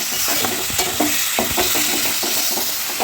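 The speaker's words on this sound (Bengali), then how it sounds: "মশলা কষানো হচ্ছে" Ginger, green chilli and cumin paste sautéing in oil for a hilly-style fish curry, a loud close sizzle with repeated scraping stir strokes at an irregular quick pace, no voices.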